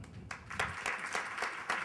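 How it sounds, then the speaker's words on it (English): Light audience applause for a panelist at a television ad sales conference panel, a few scattered, fairly quiet claps in an uneven rhythm. "Round of applause."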